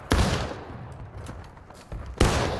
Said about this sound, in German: Saubere gezielte Schüsse